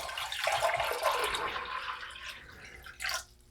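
Water is poured off from a one-gallon batch of cranberry wine, a close, sloshing splash that tapers off, followed by a short final gush.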